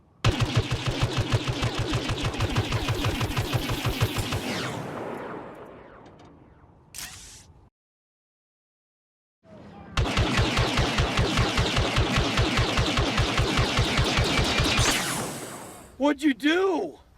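Rapid, dense bursts of Star Wars Battlefront (2015) video game blaster fire crackle loudly, fading out, then a silent gap before another long volley and a few whooshing zaps.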